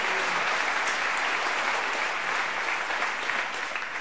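An audience gives a sustained ovation, its dense, even clapping close and loud and holding steady throughout.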